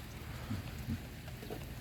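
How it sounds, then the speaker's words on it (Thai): Steady rain falls outdoors as a constant broadband hiss with a low rumbling undertone, no voices, with a couple of faint low bumps. "ฝนก็ตกตกหยุดหยุดนะ"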